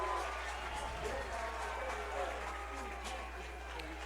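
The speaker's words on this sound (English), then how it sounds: "Listen to the crowd." A college football crowd at a San Mateo vs Modesto junior college game keeps up a steady distant roar and murmur in the stadium, with low background hum throughout.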